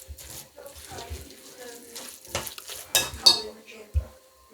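Christmas pudding mixture being stirred and combined in a bowl, with irregular scraping and clinking of a spoon against the bowl, close by, with a few soft sounds between the strokes.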